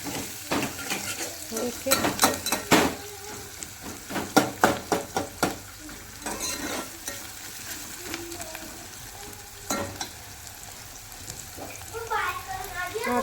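Chopped onions frying in a pan for egg biryani, with a steady sizzle under repeated sharp scrapes and clanks of a spoon stirring against the metal; someone talks briefly over the cooking.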